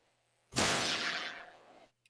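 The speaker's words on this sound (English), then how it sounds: "That was gunshot." A single gunshot cracks loudly after a brief silence, then rolls off into a long fading echo lasting over a second before a small click at the end.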